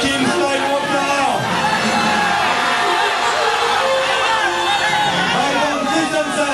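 A large crowd of fans at the Cannes film festival cheers, whoops and shouts continuously, a dense roar of many voices with rising bursts of excitement throughout.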